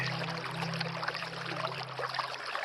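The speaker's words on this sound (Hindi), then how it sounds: "जैसे जैसे पानी की बूंदें जमीन को छू रही हैं" Steady rain falling with a constant broadband wash of drops hitting the ground, soft and even throughout, alongside a low steady hum underneath and no voices.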